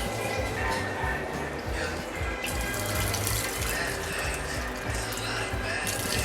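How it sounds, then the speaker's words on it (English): Tap water runs steadily into a cooking pot being filled for spaghetti aglio e olio, a continuous rushing pour lasting throughout, with some background noise mixed in. "So he is adding water."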